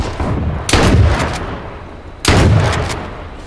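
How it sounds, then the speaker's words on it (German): Two heavy, booming gunshots in the H1Z1 battle royale game, about one and a half seconds apart, each loud and close with a rumbling tail. "Ich hab gerade auf einen geschossen, das wollte ich gar nicht, weil mir jetzt der Finger ausgerutscht"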